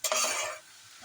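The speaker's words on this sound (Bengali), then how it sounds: "এই দেখো আমাদের পেঁয়াজটা প্রায় লাল লাল করে ভাজা হয়ে এসছে" Onions frying in oil with a little salt for a spicy chicken kosha, a loud burst of stirring and sizzle that fades after half a second into a quiet hiss, with a faint scrape near the end.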